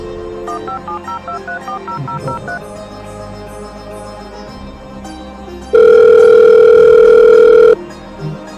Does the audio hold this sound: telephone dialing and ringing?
yes